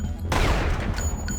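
A normal gun fires bullets in Unreal Tournament, a quick burst of sharp shots that collapses into a booming rumble and decays over about a second, loud and close, with no talking.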